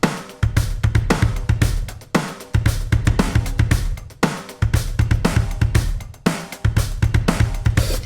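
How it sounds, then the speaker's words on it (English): Drum kit groove with both hands on the hi-hat, busy bass drum kicks and snare hits in a repeating pattern, loud, close and punchy with no talking. "When you're playing two hands on the hi-hat like this, and you're kind of coming down to the snare"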